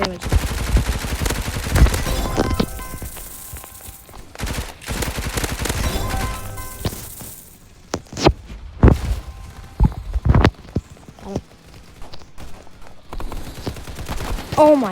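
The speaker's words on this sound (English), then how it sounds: "They're like shooting me from out of nowhere" Bursts of video game gunfire from the shooter Hypershot, rapid volleys and single shots clustering at the start and scattered through the rest, loud and close with music or game sounds underneath.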